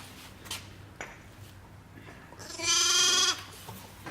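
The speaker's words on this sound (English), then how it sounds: "We caught this little sheep. He doesn't want to leave us now." Sheep bleating once, loud and close, a drawn-out wavering cry standing out over a quiet workshop background with a few faint knocks before it.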